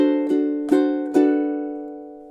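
A ukulele strums one measure of a song: three bright strummed strokes across all four strings, close and clear, with the last chord left ringing and fading.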